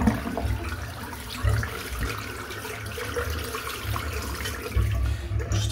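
Steady running water splashes into a sink as a Feather Artist Club shavette razor clogged with hair from a head shave is rinsed, a continuous close wash with a few louder surges.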